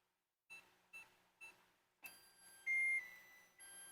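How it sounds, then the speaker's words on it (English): A kitchen oven timer gives three evenly spaced short beeps, then a burst of brighter electronic tones and one longer sustained tone, clear and close in a quiet room. "Timer's going off."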